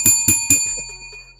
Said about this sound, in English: let's pull the bell a little closer to the microphone and ring it for you on your way out